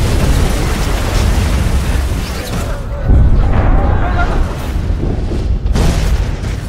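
Heavy artillery bombardment in a war film fills the scene with continuous, loud, rumbling booms and bursts, one deep blast following another. Voices talk over the barrage.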